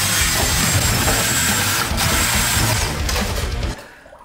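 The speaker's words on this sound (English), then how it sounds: "Just attach a brush to a drill," A power drill fitted with a scrubbing brush whirs loudly and steadily against dishes, a continuous close grinding buzz that cuts off abruptly near the end.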